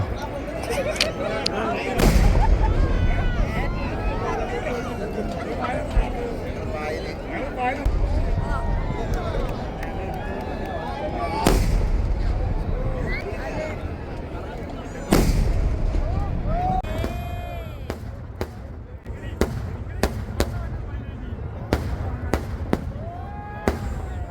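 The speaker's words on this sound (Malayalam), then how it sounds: "ഇനി വെടിക്കെട്ട് കിടിലം വെടിക്കെട്ട് കാണാം കേട്ടോ" Rapid bursts of fireworks cracking and booming, several large explosions among continuous crackle, with people talking and shouting underneath.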